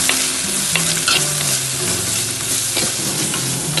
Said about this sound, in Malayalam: ഇതിലേക്ക് ഞാൻ ഉള്ളിയും പച്ചമുളക്, ഇഞ്ചി, വെളുത്തുള്ളി എല്ലാം ഒന്നിച്ചെണ്ണ ഇടുന്നുണ്ട്. നന്നായി ഒന്നിത് വാടട്ട്